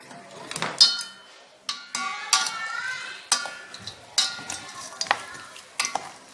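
Potatoes frying in a pan, with a steady sizzle broken by repeated scraping stirs and light metallic clinks at close range.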